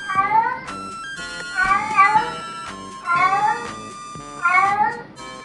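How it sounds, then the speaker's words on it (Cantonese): Several drawn-out, wavering cat yowls come in repeated bursts, loud and close, with short pauses between each wail. "貓發情嘅叫聲啊"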